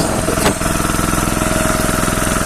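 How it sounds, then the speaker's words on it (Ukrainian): A homemade diesel generator driven by a 9 horsepower diesel engine runs steadily at close range, with a loud, even thudding idle and a brief knock near the start, with no voices. "Оце такий зробив генератор власноруч. Дизельний двигун 9 кінських сил"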